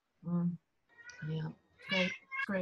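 A cat meows several times in short, drawn-out calls close by, with a person speaking briefly between the cries.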